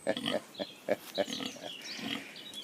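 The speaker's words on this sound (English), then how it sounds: "Nice and friendly these pigs are." Pigs at a campsite farm grunt in a series of short, close, uneven snorts, followed by softer grunting and background noise.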